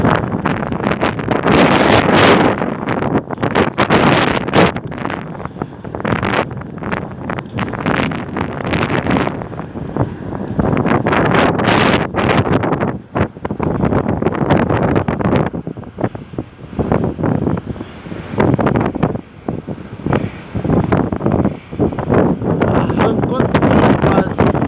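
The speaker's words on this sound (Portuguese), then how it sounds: "Vento muito forte." Strong cyclone wind buffets the microphone at Quintão beach beside a rough sea, a loud continuous roar and rumble with gusts, while a person speaks over it.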